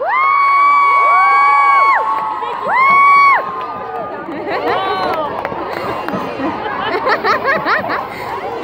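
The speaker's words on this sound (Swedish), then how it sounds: "Då vill jag att ni ger en applåd till Simon och Kevin" Children cheering and shouting for two schoolboys at a gathering. Sustained voiced cheers and whoops ring out first, then give way to lively crowd chatter and scattered yells.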